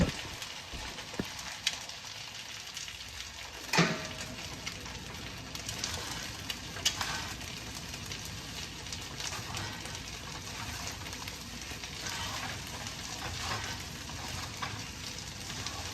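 Sinangag, Filipino garlic fried rice, stir-fried in a pan, a continuous close sizzle with scraping and stirring clatter and a sharp knock near the start, no talking.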